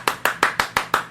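Six sharp, evenly spaced claps ring out close and loud in quick succession, a crisp rhythmic clapping effect with nothing else in the background.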